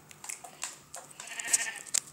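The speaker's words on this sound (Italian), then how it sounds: "abbiamo intrappolato la pecora" Minecraft sheep bleating in the video game, several short nasal bleats scattered across a quiet background, close and fairly clear with small gaps between calls.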